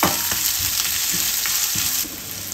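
Chopped onions sautéing with garlic in hot oil in a pan, a steady close sizzle and crackle with a few soft stirring scrapes, easing slightly near the end; no talking.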